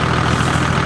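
A Toyota Land Cruiser with a 1HDT turbo-diesel engine and a 3-inch straight-piped exhaust rumbles loud and close, giving a steady, deep, throbbing diesel idle with no break.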